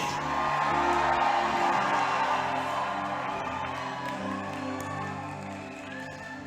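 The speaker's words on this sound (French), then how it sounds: "Est-ce que je peux écouter les cris?" A church congregation at a Sunday service shouts, whoops and cheers together, a loud, dense crowd roar that slowly fades toward the end.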